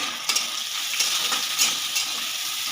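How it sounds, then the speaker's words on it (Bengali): A bay leaf and chopped onion hit hot oil for palak chicken, a loud, steady sizzle close by with a few brief stirring scrapes, with no one talking. "আমি এর মধ্যে একটা তেজপাতা আর কাটা পেঁয়াজটা দিচ্ছি"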